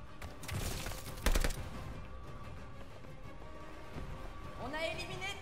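Gunfire in the Call of Duty Vanguard campaign, a brief burst of rapid shots over game music and effects, with players talking throughout.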